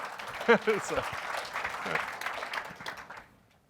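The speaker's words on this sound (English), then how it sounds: "Folks, I know she'll hear your applause" Conference audience applauding in a hall, a steady broadband patter of many hands that fades out toward the end, with a brief voice rising over it early on.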